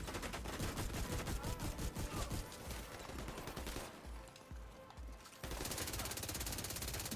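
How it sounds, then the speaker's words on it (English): Shotgun fire in The Division 2 comes as rapid, repeated loud blasts, dense and continuous, dipping briefly before another sustained barrage. "We are using that shotgun a lot"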